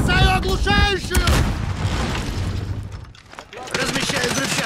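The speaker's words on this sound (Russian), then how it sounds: "Бросаю оглушающую!" A stun grenade goes off in Call of Duty: Warzone, a loud booming blast amid gunfire-like bursts and game noise, with voices in the opening moments and a brief dip before the noise resumes.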